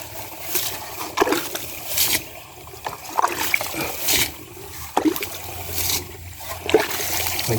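Water drains and trickles steadily, with repeated splashy surges and gurgles and a few brief knocks in between, close by and moderately loud throughout.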